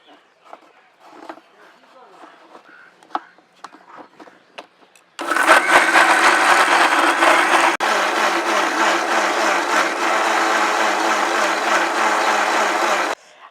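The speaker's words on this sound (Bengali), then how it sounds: "তো চলো এবার এই সসটা ব্লেন্ড করে নিই" A kitchen blender blending homemade tomato sauce, starting abruptly after quiet clatter and running as a loud, steady whirring roar for about eight seconds before cutting off.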